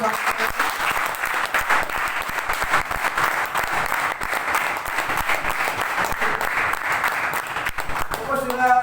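Loud, dense applause from an audience seated in a hall for a network marketing meeting, a steady wash of many hands clapping throughout, with a few brief sounds at the end.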